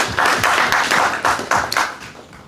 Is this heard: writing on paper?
no